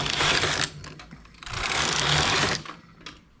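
A knitting-machine carriage with a ribber makes two fast, loud whirring passes across the needle bed, each a dense mechanical rattle with a short pause between, with no talk.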